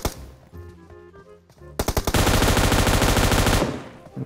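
Sustained automatic fire from an M249 machine gun in PUBG Mobile, a loud continuous burst that starts abruptly after a few scattered shots and game sounds, then cuts off and fades.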